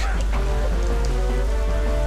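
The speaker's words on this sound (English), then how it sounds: "The rain crashing down is epic." Heavy rain pouring down during the final battle in Zelda: The Wind Waker, a loud, steady hiss of falling water over a deep rumbling backdrop, brief and continuous.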